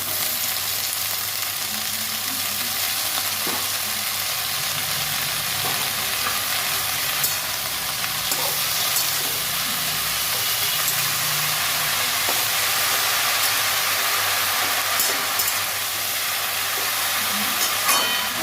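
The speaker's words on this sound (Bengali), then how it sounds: "কুমড়োর শাকগুলো দিয়ে ভালো করে কষে নেব" Pumpkin greens sautéing in a pan, a constant dense sizzle and hiss with occasional scraping stirs, close and loud with no one talking.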